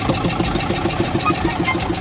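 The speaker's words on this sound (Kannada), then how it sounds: "ಇಂಜಿನ್ ಸ್ಟಾರ್ಟ್ ಮಾಡೋದು ಗಾಡಿದು." A boat engine at Honnavar runs close by with a rapid, knocking, mechanical chug. It stays loud and steady throughout, with no clear speech.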